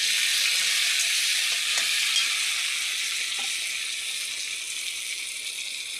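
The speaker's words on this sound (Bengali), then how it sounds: "ভালো করে এটাকে ভেজে নেব।" Garlic, green chillies and onion frying with tomato in a pan, a steady close hiss of sizzling oil that holds throughout with occasional faint clicks and stirring touches, no talking.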